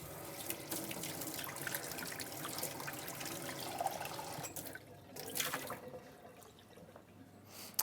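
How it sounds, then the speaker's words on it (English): Cold water runs from a kitchen tap while making pie crust, a faint steady splashing stream with small drips and gurgles, pausing briefly near the end. "I'm just going to use it out of the tap."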